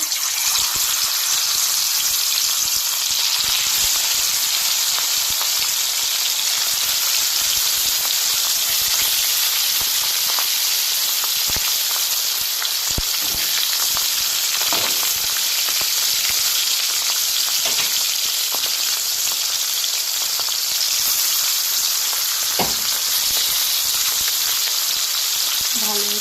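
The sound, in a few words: bhetki fish frying in hot oil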